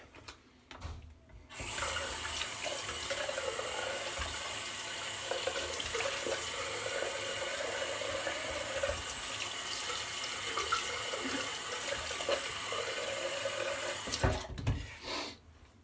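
Water running from a bathroom tap into a sink for a rinse after shaving, a steady close hiss and splash lasting about twelve seconds, starting and stopping with faint handling noise and no talking.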